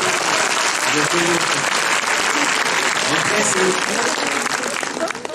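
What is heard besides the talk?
audience applause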